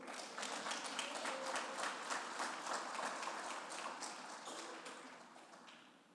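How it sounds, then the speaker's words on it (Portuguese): A church congregation applauding the Lord during a sermon, a dense sustained roar of many hands that is moderately distant and fades toward the end, with no speech. "Será que você pode aplaudir o Senhor?"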